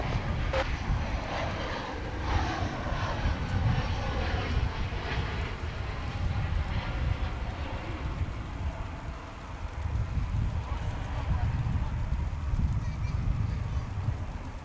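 An American Airlines jet arriving from Missoula, Montana, landing at Dallas/Fort Worth International Airport, its steady broad engine roar sustained throughout and swelling again near the end, with wind buffeting in the background.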